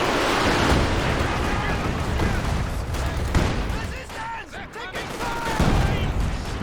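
Panzerwerfer rocket barrage in Company of Heroes 2, a dense rumbling volley of launches and impacts that thins briefly and then swells again, with a voice speaking over it.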